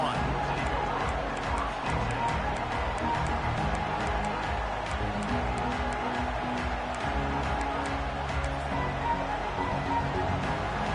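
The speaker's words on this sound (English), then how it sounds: "This crowd ready to make its presence known" Dense, steady roar of a large football stadium crowd at a Georgia vs Ole Miss college game, loud and continuous throughout, with no clear peaks or lulls.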